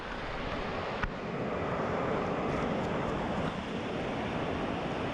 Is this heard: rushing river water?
yes